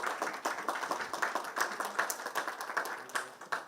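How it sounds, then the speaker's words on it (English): A small audience at a youth partners meeting gives scattered, fairly quiet applause, with individual claps distinct in an uneven rhythm rather than a full roar. "Let's give him a round of applause"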